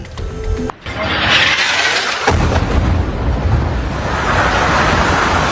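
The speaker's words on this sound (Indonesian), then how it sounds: "rekaman video menunjukkan ledakan akibat serangan udara Israel menghantam sejumlah gedung" A sudden loud blast from an Israeli air strike hitting buildings in Beirut's southern suburbs, followed by a second boom, then a long roaring rumble of debris and wind, distant yet powerful.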